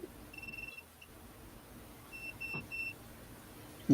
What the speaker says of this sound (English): I heard all the beeping.